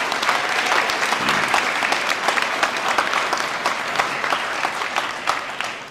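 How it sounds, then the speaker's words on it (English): A school district meeting audience applauds a staff member, a dense, even burst of many hands clapping that continues steadily throughout. "let's give him a round of applause"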